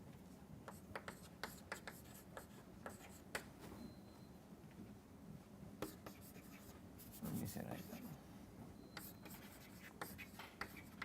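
Handwriting during a lecture on probability density functions, likely chalk or pen on a board, with scattered light strokes and taps that run steadily under a soft background hum through most of the span.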